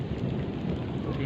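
Steady rain with low rumbling thunder in the background after a storm over a town square, continuous and fairly loud with no voices.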